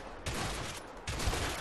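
Shotgun blasts in the video game A Way Out, two loud broadband booms about a second apart, each followed by a short rumbling tail, no voices.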